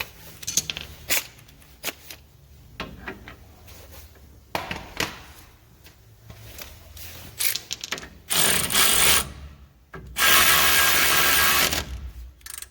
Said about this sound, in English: put a jack on the bottom of the ball joint and then start tightening it up